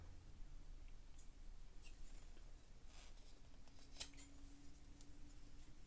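Scissors cut through sweatpants fabric, giving faint, soft snipping in a quiet room, with one slightly sharper snip.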